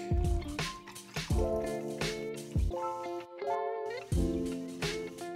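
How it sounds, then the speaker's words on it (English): Green apple mint soda poured over ice into a glass, with bright fizzing, drips and clinking ice in several bursts up close, no talking. "grab our trusty glass with ice, give it the old pour, and see what it looks like"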